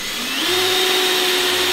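A power drill with a 1-1/4 inch bit spins up and bores into plastic on a Yamaha YXZ1000R spare tire mount install, a loud steady whine rising in pitch and then holding, with no speech.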